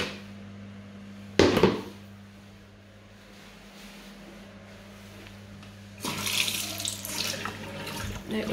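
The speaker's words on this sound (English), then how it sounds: "No issues with the tap." A bathroom tap is turned on and runs, a broad steady hiss of flowing water starting after a handling clatter and a long quiet stretch, close and moderately loud.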